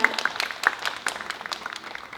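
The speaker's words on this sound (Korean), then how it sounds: "큰 박수 부탁드립니다." A crowd at a disability arts dance competition claps for the next act, a scattered patter of handclaps that is moderately loud and fairly near, with no voices over it.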